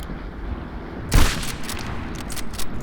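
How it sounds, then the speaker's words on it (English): A gun fires in a video game, one sharp snapping shot standing out midway above a low rumbling background, followed by fainter scattered shots, with no voices. "Like, listen to this gun."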